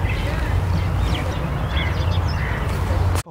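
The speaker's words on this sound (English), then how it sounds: "Fuck off, crow." A crow cawing outdoors, a few harsh calls scattered over a constant low rumble of background noise, fairly distant and partly buried in the ambience.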